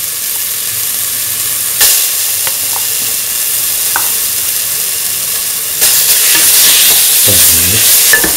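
Ground mint and coconut mixture being stirred with salt and sizzling mustard seeds in a hot pan: a steady hiss and sizzle, punctuated by sharp scrapes of a spoon and a burst of stirring near the end.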